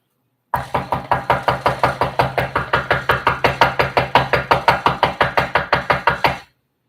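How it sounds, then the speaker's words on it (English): Steady knocking on a door given as a demonstration, about thirty even raps at a brisk, regular pace, loud and close, with no talking over them. "You're knocking. He said, you knock."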